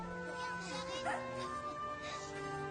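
A dog gives soft yips and whimpers, fairly faint, over a steady background of music and a voice talking.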